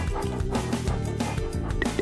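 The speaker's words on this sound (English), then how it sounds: "Dog." A dog barks and yips a few times over upbeat background music.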